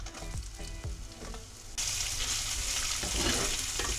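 Chopped onions hit hot oil for jowar upma, bursting into a loud, sustained sizzle after a few quieter pan knocks and scrapes, the frying hiss staying strong and close to the end.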